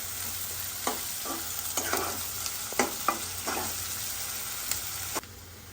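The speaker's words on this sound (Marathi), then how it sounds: "कांदा घालून थोडा बदामी रंगावर परतायचा" Onion sautés to a light brown in a pan with a continuous sizzle broken by repeated scraping stirs of a spoon, close and fairly loud, with no talk.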